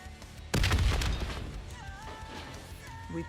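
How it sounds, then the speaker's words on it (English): An explosion in the video game Call of Duty: Black Ops III, a sudden loud blast that rumbles and decays over a couple of seconds, followed by faint game tones and low background noise. "The explosion blocked our path."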